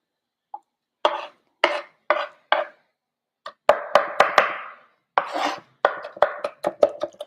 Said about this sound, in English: let's keep chopping.